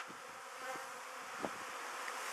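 Honeybees on their first spring cleansing flight at an apiary, making a faint, continuous buzzing hum with a few louder passes of individual bees close by.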